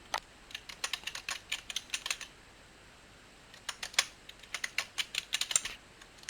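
A password is typed on a computer keyboard in two quick runs of crisp, close key clicks separated by a short pause, with no talking over them.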